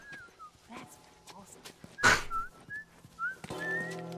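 Whistled melody from a character in The Last of Us Remastered, a wavering tune in short phrases with gaps, accompanied by dog-like whimpers and a brief loud burst midway, with speech nearby.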